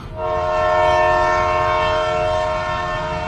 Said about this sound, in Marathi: तेवढ्यात बाबांना ट्रेनचा हॉर्न ऐकू आला.